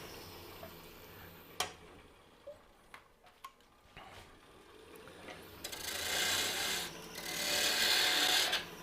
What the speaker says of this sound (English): Just gonna round it over and then make the knob up on top.